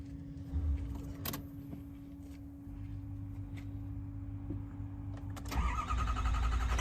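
A 2003 Ford F450 diesel truck with about 141,000 miles cranks and fires up after its glow plugs warm, a steady low hum underneath, then a sharp crank near the end as the engine catches and settles into a loud idle.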